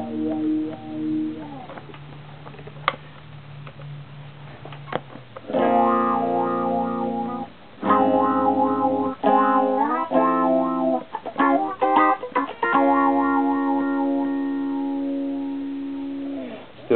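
Clean electric guitar played through a Danelectro Dan-o-wah multi-tone wah pedal, sustained chords and single notes sweeping in tone, with short breaks between phrases and loud, close phrasing throughout.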